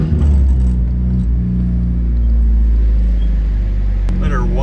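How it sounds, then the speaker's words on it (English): A manual car with a standalone ECU tune idles after being fired up, a loud, steady low engine rumble close by, with a person briefly talking over it. "we'll go back and connect to the vehicle, fire her up."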